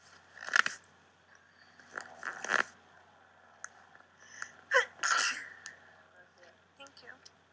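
A Big Brother 20 houseguest sneezes several times in a quiet room, with sharp bursts separated by pauses and some throat sounds mixed among faint background talk.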